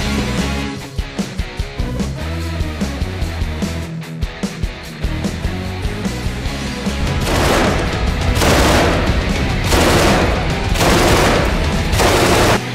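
Live gunfire rings out during special forces tactical training, with sharp single shots in a rhythmic series early on, then heavy sustained bursts of fusillade and booms, loud throughout over a musical backing.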